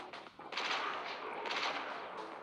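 Automatic rifle fire in the mobile shooter game Johnny Trigger, with dual identical rifles firing continuous rattling bursts that are fairly quiet and blend into a dense, steady roar.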